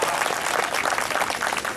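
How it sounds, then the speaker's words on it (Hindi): A brief burst of crowd applause at a Hindi poetry recital, dense clapping heard at moderate distance for under two seconds. "एक बार जोरदार तालियां बजाएं चेतन जी के लिए"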